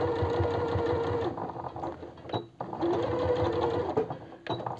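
A sewing machine stitches the shoulder seam of a women's vest with a steady, loud mechanical whir. A brief pause and a thin squeak break the stitching before it resumes. No one speaks.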